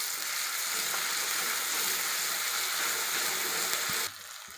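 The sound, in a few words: frying garlic and chili paste in a pan, stirring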